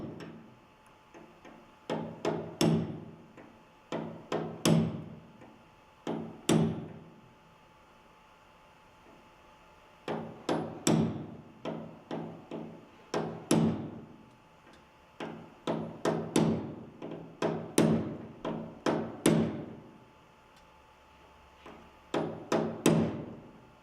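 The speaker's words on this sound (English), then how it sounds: "With a hammer punch, tap it the rest of the way until it protrudes equally at both ends." A hammer strikes a punch to drive a roll pin into a hole, giving sharp metallic taps in quick clusters of two to four blows with short pauses between, close and alone.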